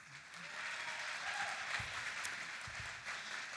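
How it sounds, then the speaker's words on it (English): Steady applause from a pageant audience fills the room, broad and continuous, at moderate distance with no talk over it. "nice round of applause for that phase of competition"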